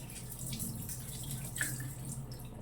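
Tap water running into a sink while tomatoes and ginger are washed, a faint, steady splashing flow with small drips and brief handling sounds.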